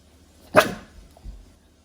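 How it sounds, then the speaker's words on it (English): A single short, sharp dog bark close by, followed by a faint soft thump, in an otherwise quiet room. "Was that a bark?"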